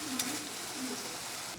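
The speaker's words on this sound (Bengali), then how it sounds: "মশলাটা যাতে পুড়ে না যায় যেন জল দিয়ে একটু কষিয়ে নিই।" Masala spices with green chillies and a splash of water frying in a pan for a fish-head and water lily stem curry, a steady broad sizzle with soft stirring scrapes and one brief clink near the start.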